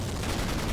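A tank gun fires in the combat game Steel Fury: White Tiger, a single heavy, booming blast filling the whole moment.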